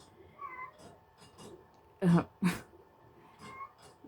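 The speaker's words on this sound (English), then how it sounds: "Oh, especially meowing. He's in here meowing." A house cat meows indoors, two loud close meows in quick succession followed by fainter mewing, with a person's quiet voice nearby.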